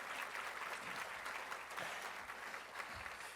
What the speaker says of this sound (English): Let's give Volunteer New York another round of applause for all of the work that they do.